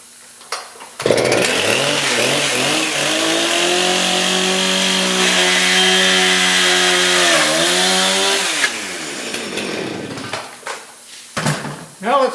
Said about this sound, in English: we're going to stick the chainsaw through there